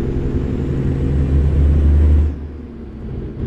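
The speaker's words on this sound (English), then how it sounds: "the only thing that I'm not really liking about this truck is it needs more engine sounds." International 9900i truck engine in American Truck Simulator, a loud steady low rumble that drops to a quieter idle partway through, with no talking.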